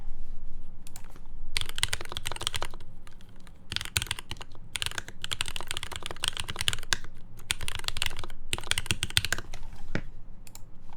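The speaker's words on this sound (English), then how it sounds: "I want to try typing on it one more time." Steady bursts of mechanical keystrokes from a polycarbonate-cased Alice-layout mechanical keyboard, typed in quick clattering runs with brief pauses between phrases, close and fairly loud, with no talking.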